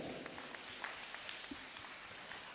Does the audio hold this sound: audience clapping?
yes